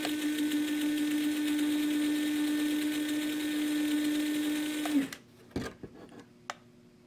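A 1/10 scale RC crawler's motor and modified gearbox with a newly fitted spur gear whine steadily at a constant pitch for about five seconds, then stop, followed by a few handling knocks and clicks.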